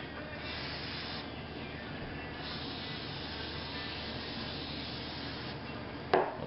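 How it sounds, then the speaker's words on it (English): Spray cleaner hisses steadily onto the bolt of a Remington 722 .308 rifle, a soft continuous spray lasting several seconds, ending with a sharp click. "So the second step here is I'll spray the bolt down with"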